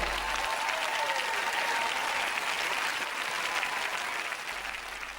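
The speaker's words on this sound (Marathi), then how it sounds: "एकच व्यक्तीने टाळ्या वाजवल्या" A crowd at a religious talk claps in sustained, dense applause that stays loud and steady for several seconds before easing slightly toward the end.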